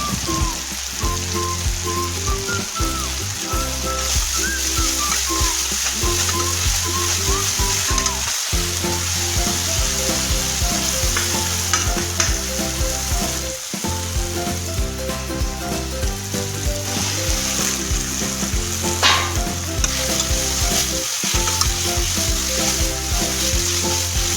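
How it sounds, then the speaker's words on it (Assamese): Tomatoes frying in a pan with salt for a rohu fish curry, crackling and sizzling steadily up close with occasional stirring, with music playing throughout and no talk. "তাৰপিছত বিলাহীখিনি দি দিছোঁ এতিয়া সোৱাদ অনুসৰি নিমখ দি দিছোঁ আৰু বিলাহীখিনি গলি নোযোৱালৈকে ভাজি ল'ম"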